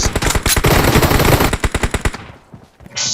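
Rapid bursts of M4 rifle fire in PUBG Mobile, loud and close, with dense full-auto rattling that breaks into spaced single shots before trailing off.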